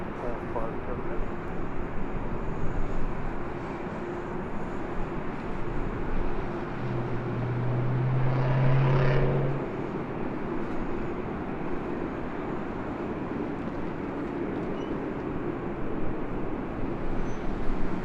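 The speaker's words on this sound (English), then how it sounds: "All right, there she goes, rolling down at 24 left." Lufthansa 457 Heavy airliner rolling for takeoff on runway 24 left at LAX, a low distant engine roar that swells midway and then fades, with a voice talking over it.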